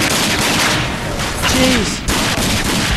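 Gunfire in the shooter game RAGE comes as a burst of loud, sharp shots in quick succession, with a brief voice exclaiming partway through.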